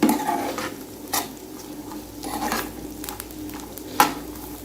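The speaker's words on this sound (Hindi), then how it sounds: "अब इन सब चीज़ों को मैंने 3 से 4 मिनट के लिए भूनना है।" Dates and other ingredients roasting in a pan on low heat for sheer khurma, a soft steady sizzle under repeated spoon stirs and scrapes against the pan, with a couple of sharper knocks and no talk.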